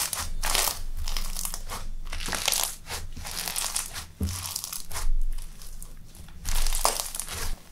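Crunchy slime squeezed and crunched up close, bursts of crackling, popping crunches coming in repeated pulses with short pauses, no talking.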